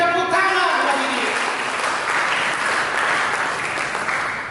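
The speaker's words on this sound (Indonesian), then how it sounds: "Berikan tepuk tangan bagi dia." A church congregation breaks into sustained applause, a broad wash of clapping that follows a brief spoken voice at the start and keeps up steadily, fairly loud, to the end.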